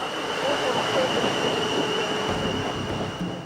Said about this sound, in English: Do you want to get the number of that train?